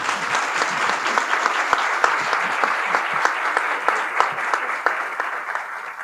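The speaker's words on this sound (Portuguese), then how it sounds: "Então, palmas para o Chukwuebuka." An audience at a literary festival panel applauds a Nigerian author, a loud, dense, sustained clapping from many hands, close and continuous throughout with individual claps standing out.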